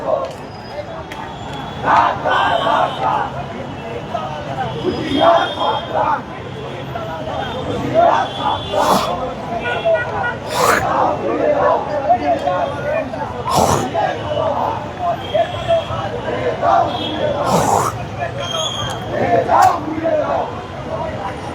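Protesters surrounding a newspaper office in Dhaka chant slogans, a large crowd's voices rising in repeated loud bursts over a steady murmur of babble, with a reporter talking over them.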